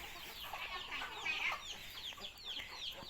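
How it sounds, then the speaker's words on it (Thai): Backyard chickens kept at a rural Thai home cluck softly in a busy, overlapping chatter, moderately close but quiet, with no voices. "ไก่บ้านเลี้ยงไว้"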